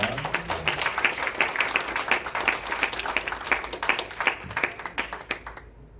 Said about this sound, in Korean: 힘찬 박수 보내주시기 바랍니다